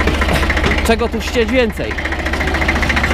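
A 1965 Deutz D40 tractor engine idles steadily as a low, constant rumble running under a man's close speech throughout.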